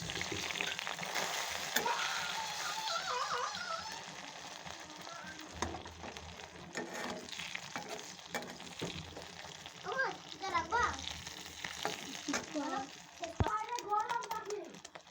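Fish frying in a pan gives a soft, steady sizzle under voices, including a child's, that talk and chatter close by.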